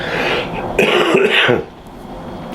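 A person recovering from Covid gives a harsh, close cough and a rough throat clearing, loud and brief, lasting about a second before trailing into quiet.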